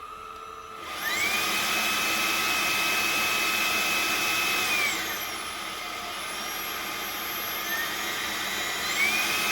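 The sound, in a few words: eufy E20 3-in-1 robot vacuum cleaner running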